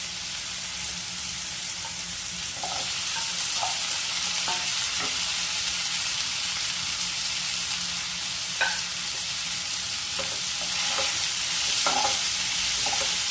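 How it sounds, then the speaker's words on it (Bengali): Diced potatoes frying in a pan for muri ghonto, a constant hissing sizzle with scattered scraping stirs and soft clinks of the spoon, close and steady. "যে আলুগুলো কেটেছি ডুমো ডুমো করে, সেই আলুগুলো ভেজে নেব"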